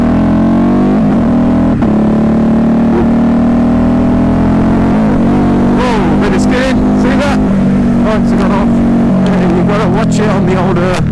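A 2022 Ducati HyperMotard 950 SP motorcycle is ridden hard on wet, dark roads, its engine droning loudly and close, with rising revs and sharp changes in pitch through the second half, wind noise throughout.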